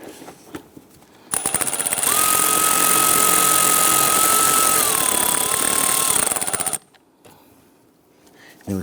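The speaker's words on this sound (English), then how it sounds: "I'm going to snug down this bolt here." A 10mm bolt on the air intake of a 1992-1996 Toyota Camry 2.2L I4 is tightened with a power tool that whirs loudly and steadily for about five seconds, then stops, after some quieter fiddling with parts.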